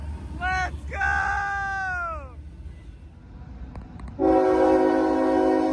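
A northbound Norfolk Southern train with NS4000 as fourth locomotive sounds its horn: short blasts that fall in pitch at first, a quieter pause, then a loud, sustained multi-note horn chord to the end over low rumble.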